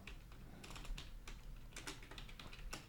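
Computer keyboard typing, a quick run of light key clicks in short bursts with small pauses, close and fairly quiet, no voices.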